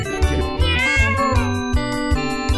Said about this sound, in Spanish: Flaminio Frutos, el gato DJ